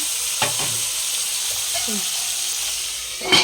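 Tomatoes dropped onto already fried onions in a hot pan set off a steady high hiss of sizzling, with a few short scrapes and clinks of stirring and a faint voice in the background.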